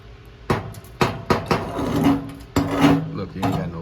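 A hammer knocks slag off a flux core weld in a series of sharp metallic raps, several spaced strikes ringing close up with brief resonant tones between.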